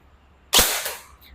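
A single sharp shot from a second-hand G&G ARP-9 electric airsoft gun, a crisp snap with a short tail, alone in quiet.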